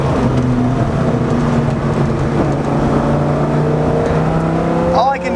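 A Dodge Viper RT-10 V10 engine rumbles loud and close while driving, a steady throaty drone with rising pitch near the end, under someone talking.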